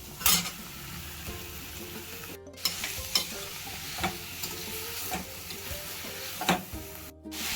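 Chicken sautés in a pan for restaurant-style capsicum chicken, a steady close sizzle broken by repeated scraping stirs of a spoon against the pan.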